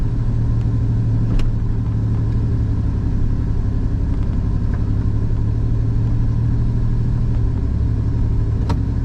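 A 1986 Pontiac Fiero GT reverses slowly into a parking spot after sitting for years, its engine idling with a close, steady low rumble and a faint mechanical knock throughout.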